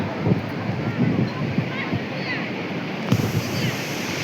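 Ganga waters wash in at Gangasagar with a continuous rushing surf, close and fairly loud, with wind buffeting the microphone and a few sharper splashes.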